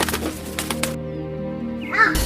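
Crows cawing from a banyan tree, a few harsh, close calls opening the moment before a brief crack near the end.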